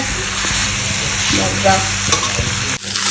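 Pork cooks in plenty of oil in a pan, with a loud, continuous sizzle and crackle and occasional scrapes of stirring, with no talk over it.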